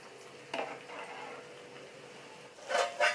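A ladle scrapes and stirs rice in a pot of veg biryani with a few soft knocks against the pot, quiet and close, ending with two louder scraping strokes.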